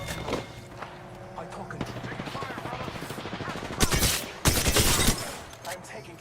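Bursts of rapid gunfire in Apex Legends crackle among game sounds while a player talks over them, with two loud, close volleys standing out near the end.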